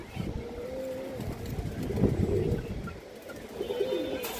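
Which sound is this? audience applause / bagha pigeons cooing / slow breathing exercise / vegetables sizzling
bagha pigeons cooing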